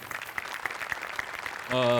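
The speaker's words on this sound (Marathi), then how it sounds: "तुझ्या मेकअपसाठी एकदा टाळ्या." Studio audience on a Marathi comedy show breaks into a burst of applause near the end, dense clapping that swells loudly after a stretch of softer crowd noise.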